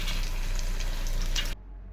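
Chopped carrots frying for godhumarava upma, a dense close sizzle in hot oil that runs steadily, then cuts off abruptly near the end, leaving only a low hum.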